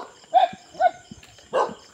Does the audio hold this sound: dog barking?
yes